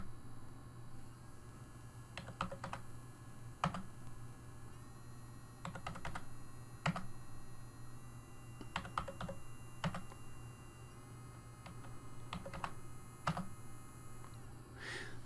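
Quiet, close keystrokes on a computer keyboard as values are entered in a DC motors lab, coming in short irregular bursts over a steady low electrical hum, with no one speaking.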